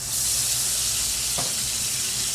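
Garlic-ginger paste hits hot oil and sets off a loud, bright, continuous sizzle and hiss, close by, with one brief scrape partway through.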